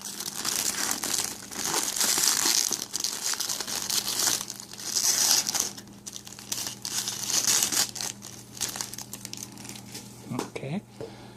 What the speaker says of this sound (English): Let's go ahead and get the plastic off of her